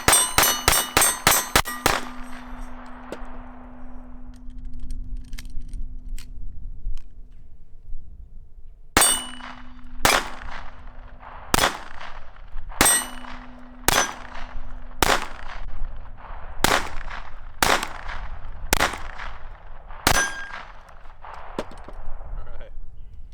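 A Ruger LCP II Lite Rack .22LR pistol fitted with a Galloway Precision spring kit fires about fifteen sharp, loud shots: a quick burst at the start, then a steady string of single shots roughly a second apart.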